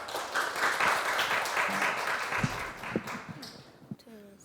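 An audience at a youth policy proposal presentation contest in Yeoncheon applauds a school team taking the stage, a moderately loud clapping that fades over a few seconds, followed by light taps and a voice beginning to speak.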